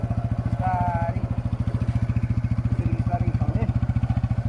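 Motorcycle engine idling and pulling away during a riding lesson, a steady close thumping exhaust pulse throughout, with someone talking over it.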